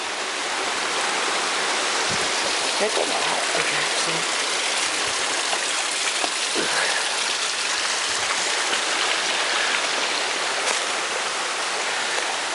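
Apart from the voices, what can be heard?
clear stream water flowing at Carter Caves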